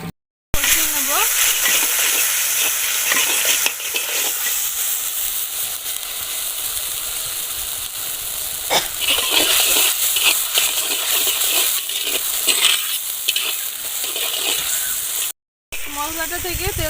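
Spice paste with salt and sugar frying in hot oil in a pan for Bengali potol dorma, giving a steady close sizzle and hiss with occasional stirring scrapes throughout.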